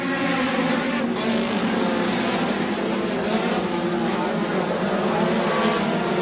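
Race cars roar around the Tyler County Speedway track in a continuous loud engine drone, with cars passing in dense, layered waves and no pauses.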